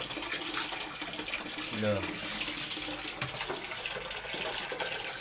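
Running water from a tap or basin while a child is bathed indoors, a steady broadband rush lasting throughout, with people talking over it.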